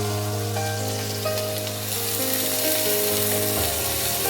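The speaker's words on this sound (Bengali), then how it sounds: "দিয়ে পেঁয়াজটাকে আমি একটু হালকা ভেজে নেব।" Onions frying in hot oil left over from frying potatoes, giving a steady, close, loud sizzle that holds without break and swells a little near the end, with no voices.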